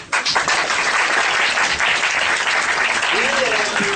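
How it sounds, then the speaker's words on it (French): Steady, loud applause from the audience at a French improvisation comedy show, dense clapping filling the whole stretch with a brief voice near the end. "On applaudit."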